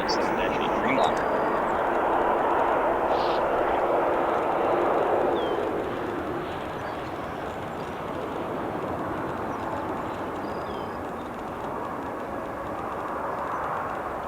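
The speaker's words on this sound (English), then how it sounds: "So it looks like the first aircraft has now safely landed on runway 10 right again." A large jet lands on runway 10 Right at Chicago O'Hare, heard from a distance as a broad, steady engine roar that swells and then settles into a lower rumble for about fourteen seconds.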